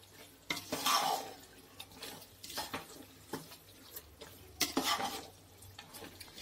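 Biryani masala stirred and sautéed in oil in a pot for chicken biryani, with intermittent scraping strokes and soft metallic clinks over a quiet background sizzle, close and fairly soft.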